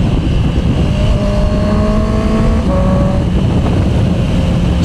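Honda CB650R E-Clutch motorcycle downshifting while riding, engine notes stepping through falling and rising pitch sweeps under steady wind rush on the microphone, close and loud throughout.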